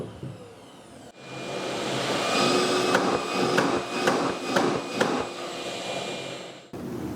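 Oneida Dust Cobra cyclone dust collector with a steel drum switches on abruptly and runs as a loud, steady high-pressure roar with a whining tone and a few sharp ticks, then cuts off near the end.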